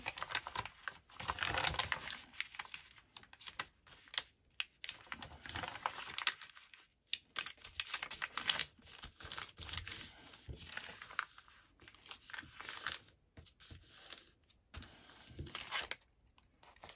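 A paper mini journal page is folded into a small envelope, giving close, repeated crinkling and crisp creasing with short rustles and brief pauses, no talking.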